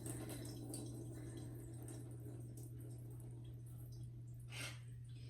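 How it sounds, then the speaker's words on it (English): Water is poured off cooked chicken with a little fat, giving faint, quiet dripping and trickling over a constant low hum. "I'm actually going to drain the water off a little bit so it's not as runny."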